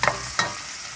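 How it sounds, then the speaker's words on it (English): Onions sizzle in oil in a pot, a close steady hiss with two brief stirring scrapes near the start. "They start sizzling."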